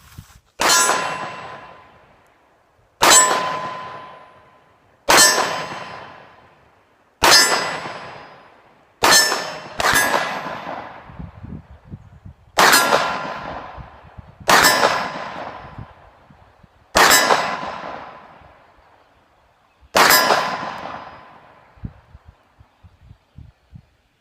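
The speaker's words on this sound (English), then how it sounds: "see if I can actually make those beautiful AR-500 steel hard targets by HardTarget ring" Steel AR-500 hard targets ring out ten times at spaced intervals, each struck by a Dan Wesson Specialist Commander .45 pistol round, giving a sharp metallic clang that decays slowly; the gunshots themselves sound distant and faint beneath the ringing.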